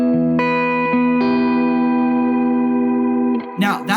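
Electric guitar played through a reverb pedal with its treble control turned up, several sustained chords ringing with a bright shimmering tail, close and fairly loud, then a few quick, noisy strums near the end.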